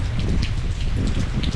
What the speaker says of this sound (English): there is more rain coming this way.